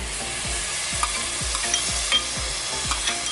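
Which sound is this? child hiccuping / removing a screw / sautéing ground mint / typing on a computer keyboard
sautéing ground mint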